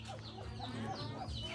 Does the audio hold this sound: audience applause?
no